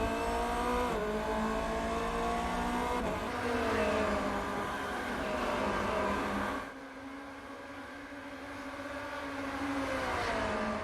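Formula Renault 2.0 race cars lapping Suzuka in the iRacing simulator, with high engines revving and shifting through gears, pitch rising and falling, one car dropping away as another closes in, loud and continuous with no talking.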